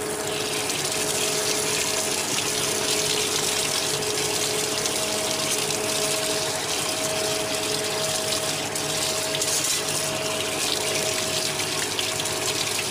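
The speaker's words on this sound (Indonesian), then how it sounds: "siram pakai air." Water poured steadily over hot, fire-blackened iron to cool it, giving a continuous gushing, hissing rush with a faint mechanical hum underneath, no voices.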